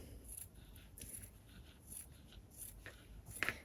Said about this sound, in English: Then we're going to snip into the seam allowance all the way along.